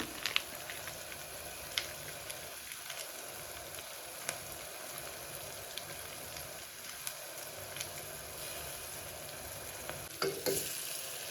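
Ginger garlic paste sizzles and fries in a pan, a steady crackling hiss with occasional scrapes and taps as it is stirred, close and continuous without any talking.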